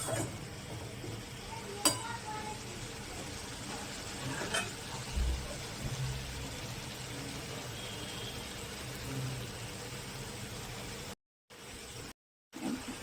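Amudi fish jhal, a spicy fish curry, sizzles steadily in a pan while being stirred, with scraping and occasional sharp clinks of the spoon against the metal over a constant frying crackle.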